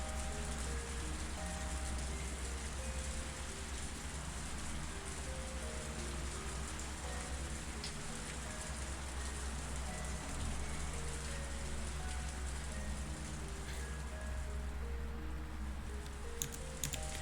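Steady rain in the video game Higurashi: Matsuribayashi, a continuous soft patter at even loudness throughout, mixed with low sustained game music tones and no voices.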